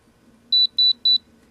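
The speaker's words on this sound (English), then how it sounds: "As you see, 3 beeps," Spektrum DX6i radio transmitter giving three short, sharp high-pitched beeps in quick, even succession, loud and close, over faint background hum.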